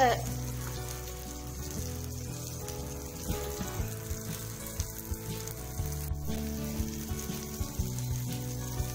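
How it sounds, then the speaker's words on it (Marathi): Prawns fry in a pan, a soft, continuous sizzle close by with faint, regular taps and stirring clicks, and no talking. "छानपैकी कोळंबी भाजलेली आहे।"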